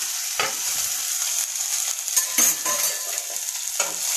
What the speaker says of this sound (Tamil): இப்போ பாருங்கள் இந்த வெங்காயம் வந்து பூண்டும் நல்லா வதங்கிடுச்சு